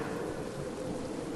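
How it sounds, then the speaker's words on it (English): Rain beginning to fall, a brief, steady hiss of drops with a soft low rumble beneath, moderately loud and uninterrupted, with no voices. "now it's starting to rain"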